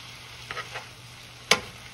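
Spinach, garlic and shallots sizzle softly in a little oil in a skillet, with a low steady frying hiss broken by a few brief stirring scrapes and one sharper clack.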